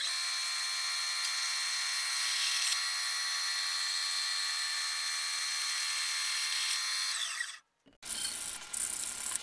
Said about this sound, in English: So I'm going to use the bandsaw to just cut these pieces out.